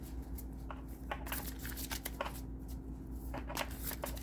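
Tarot cards are shuffled in a quiet room, a soft run of riffling flutters and light slaps repeating for several seconds.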